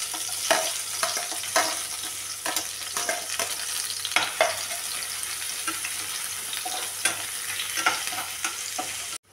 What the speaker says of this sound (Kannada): ಈಗ ಇನ್ನೊಂದು ಈರುಳ್ಳಿ ಹಾಕ್ತಾ ಇದ್ದೇನೆ.